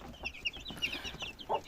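A broody hen gives quiet, rapid clucks in short irregular bursts, faint and close, with no other voices.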